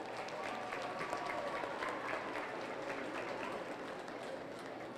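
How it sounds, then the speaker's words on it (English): A crowd at a youth fair commercial heifer show in Polk County applauds the exhibitors, the steady clapping sounding distant and fairly faint throughout. "Let's give them a round of applause."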